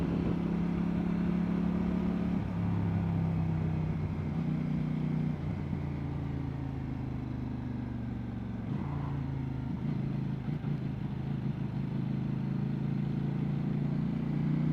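Steady twin-cylinder motorcycle engine drones throughout while riding on a bumpy road, a low throbbing hum with slight shifts in pitch, continuous and fairly loud with no talking.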